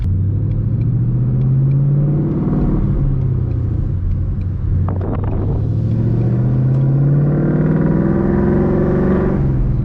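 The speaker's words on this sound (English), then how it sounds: "Right now it's just a loud regular car." A loud supercharged Ford Mustang engine in regular mode rumbles steadily and revs up and down, droning low and close throughout with no talking.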